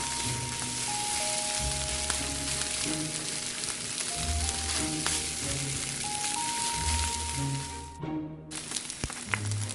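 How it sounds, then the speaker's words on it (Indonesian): Scrambled egg and seasonings are stirred in a hot pan for an Indonesian stir-fry, a continuous close sizzle broken by repeated scrapes and clinks of the utensil against the pan, with a faint musical tone running underneath. "Kalau telurnya sudah matang, kita lanjutkan mengaduk semuanya sampai bumbunya merata."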